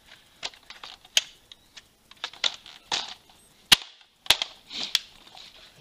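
Sharp plastic clicks and snaps as a magazine is seated into a Nerf Double Dealer blaster, a scattered series of crisp close taps with short pauses between them, no voices.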